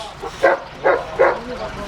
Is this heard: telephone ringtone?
no